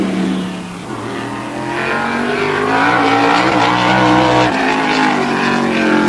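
A tour-type modified race car laps the Wall Stadium oval during qualifying, its engine roaring steadily and rising in pitch as it accelerates off the turns, loud and close throughout.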